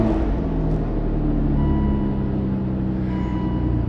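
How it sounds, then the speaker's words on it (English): Aston Martin DB9 engine running at idle just after starting, a steady low rumble with continuous mechanical hum close by, no speech. "we're going to start the car"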